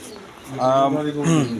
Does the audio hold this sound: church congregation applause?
no